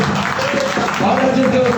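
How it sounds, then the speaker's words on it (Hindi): A church congregation at a Sunday morning service claps to welcome one another, a steady dense applause filling the hall throughout. "एक दूसरे का स्वागत करेंगे हम ताली बजाकर"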